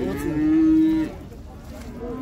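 A cow at a Kazakh livestock market (Baidibek Bi) lets out one loud, sustained moo of about a second, standing out close against a faint murmur of market background noise.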